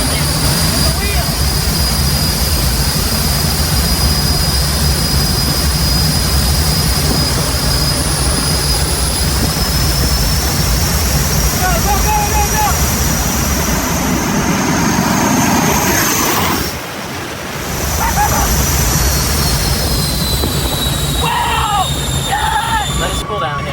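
A fighter jet engine fitted in a mini truck roars loudly and continuously with a high whine, dipping briefly before surging again, and people talk and shout over it.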